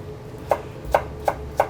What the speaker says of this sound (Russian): Морковь я буду нарезать на такие, как полукружки.